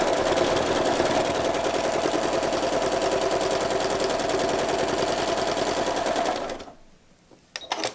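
A sewing machine free-motion stitching wavy lines on a small sea glass art quilt runs in a loud, steady, rapid clatter for about six and a half seconds, then stops, leaving near silence with a couple of small clicks.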